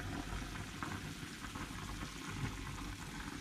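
Soup boils in a pot, a steady soft bubbling and sizzling hiss at low volume with no break, close by and alone.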